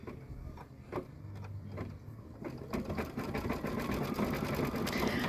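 A sewing machine stitches a decorative pattern on white fabric, starting with a few separate clicks and then building into a steady, rapid whirring hum with fast needle ticks, moderately quiet and close.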